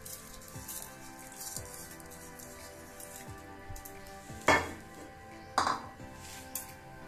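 Soaked raw rice tipped into a mixer jar, with a couple of sharp grainy clattering bursts and light clinks of the jar over a quiet kitchen background.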